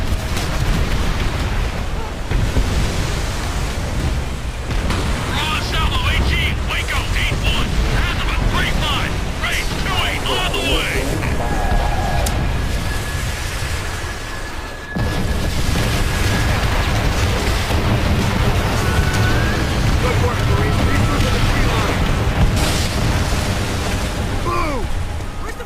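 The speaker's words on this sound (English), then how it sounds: "We got heavy MG fire tearing up the beach!" Beach battle in Call of Duty: World at War, with dense, continuous rumbling gunfire and heavy explosions, a roaring wash of combat noise throughout, and shouting voices mixed in.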